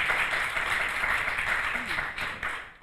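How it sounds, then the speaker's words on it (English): Applause from a live podcast audience closing out a coffee business panel, a dense steady patter of many hands that thins slightly near the end, with a voice faintly mixed in. "Please give our panel one more round of applause"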